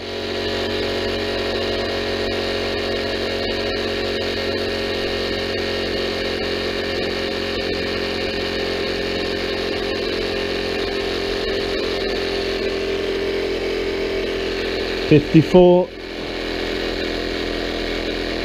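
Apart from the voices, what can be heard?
electric pump running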